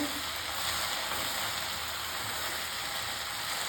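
Fenugreek seeds and cumin fry in hot oil for a sorrel leaf chutney, a steady close hissing sizzle with a fine crackle that holds evenly throughout.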